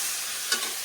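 Spice paste fries with onions in a pan, giving a steady, close hiss of sizzling oil, with a brief stirring scrape partway through.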